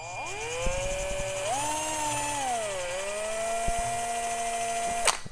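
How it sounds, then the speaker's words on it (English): A power drill whines steadily as it bores a small hole in a dryer thermal fuse. The pitch shifts up and down over a few seconds of continuous close drilling, ending with a sharp stop. "when you drill a hole and you have a pin or something to push into it"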